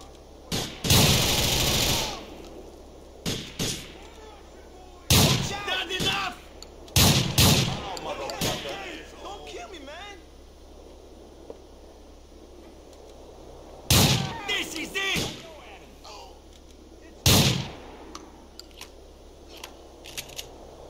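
Gunfire in GTA IV, sounding as scattered loud shots and short bursts spaced seconds apart, with quieter stretches of ambient game noise between them.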